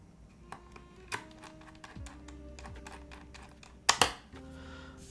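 Typing on a top-mount Gem80 mechanical keyboard fitted with GMK keycaps, an irregular run of soft clacks with a couple of louder thocks, close and quiet.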